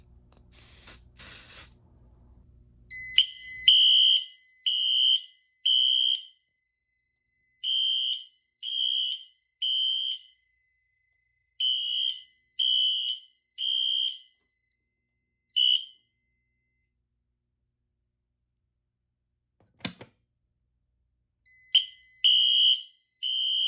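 Pulsing electronic alarm beeps from a Gamewell-FCI Identiflex 100 fire alarm panel sound in repeated groups of three, loud and steady, with a brief smoke-test spray hiss at the start and a pause before the tones resume.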